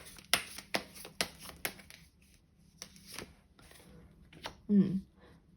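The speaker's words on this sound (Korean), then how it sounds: "제가 조언의 카드도 한 장 뽑아보도록 할게요." Tarot cards are shuffled and handled in a quick run of sharp riffling slaps, then quieter sliding and tapping as a card is drawn. A voice speaks briefly near the end.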